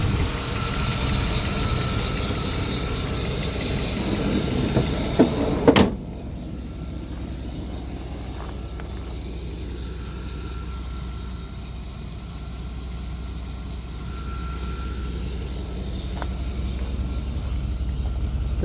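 A 1994 Chevrolet C1500 Silverado pickup with 113,000 miles idles smoothly, a steady low engine hum that drops in level after a sharp click and then continues evenly with a faint whine.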